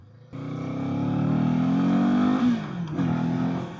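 A 2024 Kawasaki Eliminator 450 motorcycle accelerates from a start, its engine note climbing steadily in pitch for about two seconds before a shift, then pulling again, close and clear with no talk.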